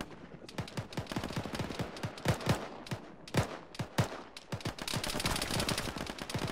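Heavy gunfire in an Arma military game erupts in a dense fusillade of rifle and machine-gun shots, some near and sharp, others more distant, arriving in clustered bursts with no pauses.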